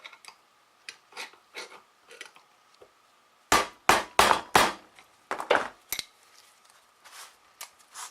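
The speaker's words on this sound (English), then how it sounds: "I can put it on a piece of wood and hammer it out." Hammer blows driving a bearing out of a 1967 Mustang steering box set on a block of wood: a few light taps, then a run of loud, close metallic strikes in the middle, easing back to lighter taps.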